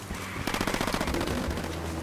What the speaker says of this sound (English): Why do I hear a gunfire?